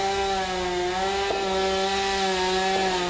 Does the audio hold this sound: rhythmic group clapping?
no